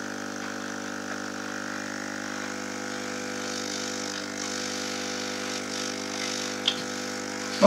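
A BOYU CJY-7500 air pump, plugged in to feed a smoke generator, runs with a steady, even mechanical hum and buzz that holds unchanged throughout, with a small click near the end.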